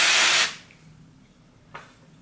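A single broad hissing burst from an aerosol hair root cover spray, about half a second long, then quiet with a faint short puff later.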